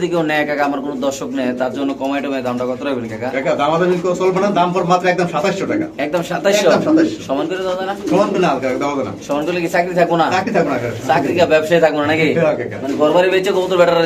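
Pigeons coo at a seller's place where caged pairs are sold with eggs and chicks, the low rolling calls running steadily under continuous nearby talk.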